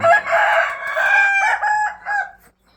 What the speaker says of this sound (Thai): ไก่หนุ่มทั้งนั้นเลยครับ เต็มทุกกรงครับ